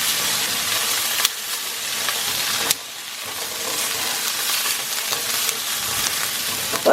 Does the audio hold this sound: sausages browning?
yes